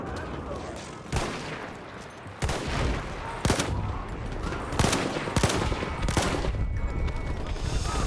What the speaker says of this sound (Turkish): topçu bombardımanı başladı diyor